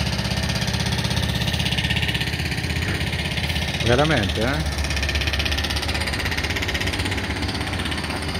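Heavy construction machinery excavating at a historic beach establishment on the Numana seafront, a steady loud mechanical rumble and clatter running throughout, with someone speaking briefly over it.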